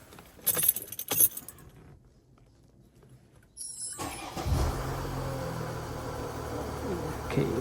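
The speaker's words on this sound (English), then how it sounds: "So let's get this car going." A car engine cranks and catches after fresh oil and a new oil filter, settling into a steady idle close by following jingling keys in the ignition.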